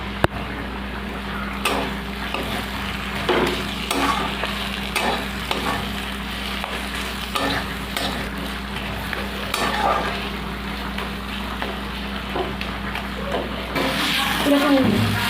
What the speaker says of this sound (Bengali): চিংড়ি মাছটা দিয়েও ভালো করে আমি নাড়িয়ে নেব।